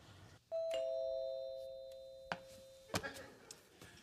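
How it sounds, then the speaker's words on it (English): A house doorbell rings with a clear ding-dong chime whose tones ring and slowly decay, followed by a few sharp knocks or clunks, with no talking. "ringing the bell"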